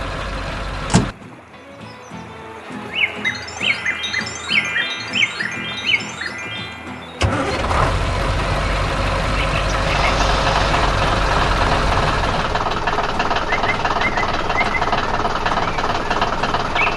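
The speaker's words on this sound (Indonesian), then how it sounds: "traktor yang sedang bekerja keras di kebun yang hijau" A cartoon tractor engine labours steadily in a green garden, a loud continuous mechanical rumble and drone that starts abruptly after a brief quieter stretch with chirpy tones, then holds dense and unbroken to the end.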